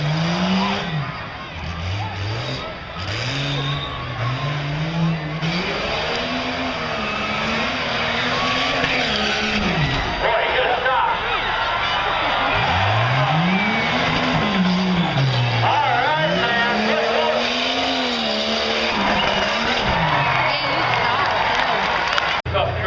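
A 1972 Ford Bronco tough truck races around a dirt track in 2012, its engine rising and falling in loud revving sweeps throughout, with a crowd underneath and an announcer talking over it.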